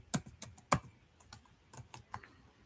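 Python code being typed on a computer keyboard, a few sharp close key clicks in an uneven rhythm with short pauses between bursts, heard alone.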